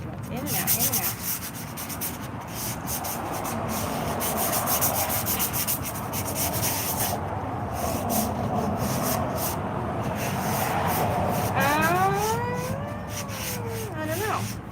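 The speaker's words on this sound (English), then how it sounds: "I'm sanding." Continuous, close scratchy rasping of sandpaper worked over wood, with a cat's short high cry near the end.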